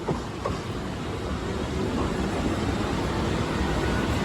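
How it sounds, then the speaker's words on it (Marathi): A Mumbai local train rolls in with a steady, loud rumble and rattling wheels, no voices. "रेल्वे आली"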